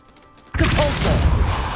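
Expelliarmus cast in Hogwarts Legacy: after a quiet lead-in, a sudden loud magical burst with a whooshing, crackling impact, sustained briefly before fading slightly.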